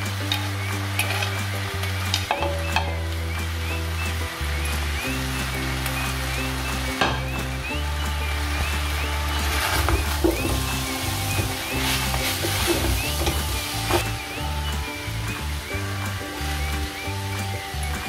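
Turmeric and spices sizzling in a hot pan with tomato while being stirred, a loud steady frying hiss with scraping stirs and clinks, close up and with no talk.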